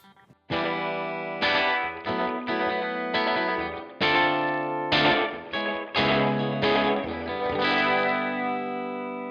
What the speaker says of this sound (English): So here it is with the 16th note delay.